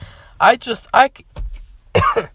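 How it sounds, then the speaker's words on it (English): Several harsh coughs come in quick bursts, close and loud, with a short pause before a final cough. "Maybe I'll take a drink and it'll make me not have to cough."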